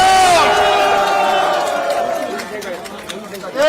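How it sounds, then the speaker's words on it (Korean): A large outdoor campaign rally crowd in Jinan roars with shouts and cheers to welcome a lawmaker, loud and sustained, with voices calling out over the din before it briefly dips and swells again. "이원택 의원님도 뜨거운 박수와 함성으로 환영합시다."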